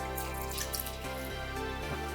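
Water poured from a cup into boxed cake mix in a bowl, a short steady splashing trickle lasting about two seconds, close by with no talk.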